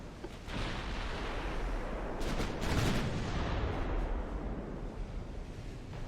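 Main guns of a warship fire in the naval strategy game Ultimate Admiral: Dreadnoughts, a dense, rumbling barrage of overlapping booms that swells midway and sustains throughout, with no talking.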